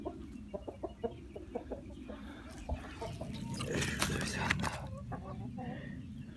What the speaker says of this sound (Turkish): Bak elimizden besliyoruz tavukları.